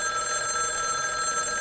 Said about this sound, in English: The ringing phone, it's making everything feel so uncomfortable.